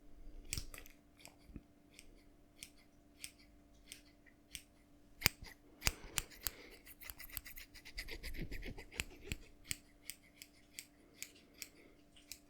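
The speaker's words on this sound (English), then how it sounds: "and then we can cut, cut, cut, cut." Scissors snip through beard hair up close and quietly in a series of sharp, crisp cuts, sometimes in quick bursts and sometimes spaced apart, with faint rustling between them.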